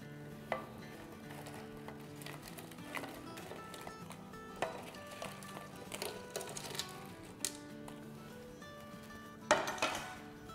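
Phulki dumplings dropped into a bowl of chilled spiced water, giving soft splashes and light clinks of a spoon against the bowl, quiet and close in a kitchen.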